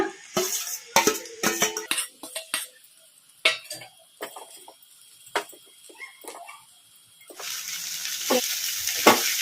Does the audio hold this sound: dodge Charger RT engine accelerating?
no